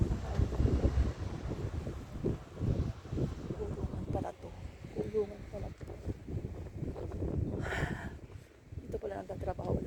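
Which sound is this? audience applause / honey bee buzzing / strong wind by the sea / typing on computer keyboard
strong wind by the sea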